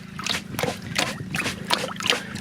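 Stones bounce and rattle inside a sieve swirled just below the water surface, bursts of gritty clatter mixed with wet sloshing in an uneven rhythm, close and fairly faint.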